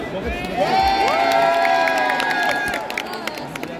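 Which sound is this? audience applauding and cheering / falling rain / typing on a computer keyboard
audience applauding and cheering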